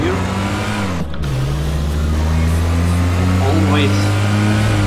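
Car engine in the racing game Street Legal Racing Redline, held in third gear, drones with a steady loud tone that dips briefly and climbs again, while a voice speaks over it.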